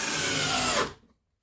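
A small cordless drill driver from 2014 whirs steadily at close range for most of a second, then spins down quickly and falls silent.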